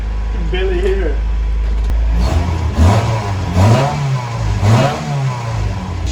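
A Honda Civic EF with a swapped B16 engine and DIY exhaust cranks and catches, then revs up and down several times at close range, with people talking underneath.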